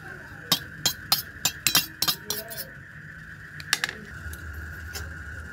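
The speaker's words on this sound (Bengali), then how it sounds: "কর্নফ্লাওয়ার এতটা পরিমাণ নিয়েছি, এটা এবার স্যুপ দিয়ে একটুখানি গুলে নেব।" A metal spoon clinks repeatedly against a bowl while cornflour is stirred into soup, giving a quick run of bright taps, a pause, then a few more near clinks over a low kitchen background.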